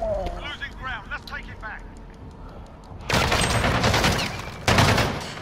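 Gunfire in Call of Duty Modern Warfare on a docks map, a dense burst of shots in the second half after a stretch of voices, loud and close, with a second burst near the end.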